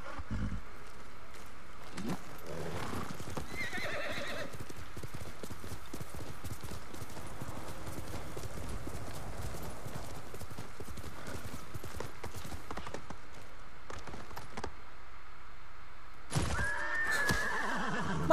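Rhythmic horse hoofbeats clop along steadily in the video game Ghost of Tsushima, broken by a couple of loud neighs, with some faint background noise throughout.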